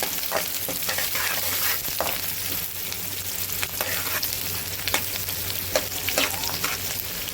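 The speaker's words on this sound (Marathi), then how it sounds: "कांदा व्यवस्थित आपण परतून घ्यायचा सोनेरी रंग येईपर्यंत" Chopped onion fries in hot oil with whole spices for paneer pulao, giving a steady loud sizzle broken by frequent clicks and scrapes of stirring, with no talking.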